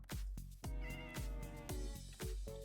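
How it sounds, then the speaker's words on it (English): Cats meow repeatedly in a Minecraft-style hardcore survival game, a series of loud, close calls in a steady rhythm of about five meows over a few seconds. "there's so many cats up here already"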